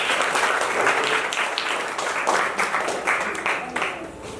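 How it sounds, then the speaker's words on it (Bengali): A crowd applauding at a clothing gift distribution held at an ashram, a burst of lively clapping that swells and gradually thins, with voices mixed in. "হাততালি দাও সবাই।"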